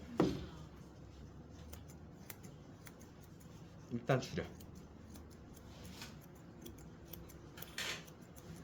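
Scissors snip through hair during a cut, a few sharp close clicks spaced apart over quiet room tone, with brief speech from a stylist.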